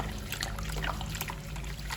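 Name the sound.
pouring salt water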